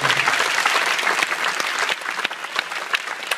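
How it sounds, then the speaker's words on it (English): An audience gives a full round of applause for teachers at an evening performance, with dense, sustained clapping close by and no talking over it. "So I'd like to give all of them a big round of applause for all of their efforts this evening."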